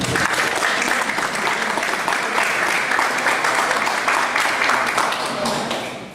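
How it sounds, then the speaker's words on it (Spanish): Loud, sustained applause from a large audience, dense clapping that holds steady and then begins to taper off at the end. "brindemos nuevamente un fuerte aplauso."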